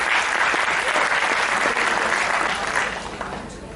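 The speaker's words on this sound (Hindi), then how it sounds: "फर्स्ट फॉलो अप तालियां हो जाए नरेश भाई के लिए" An audience at a motivational talk for homoeopaths applauds Naresh bhai with dense, steady clapping that stays loud for several seconds and then starts to fade at the end.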